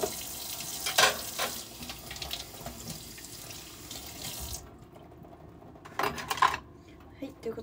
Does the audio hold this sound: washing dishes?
yes